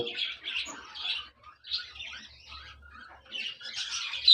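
Young birds chirp and squawk in short, faint bursts from a breeding box, irregular and high-pitched with brief pauses between calls.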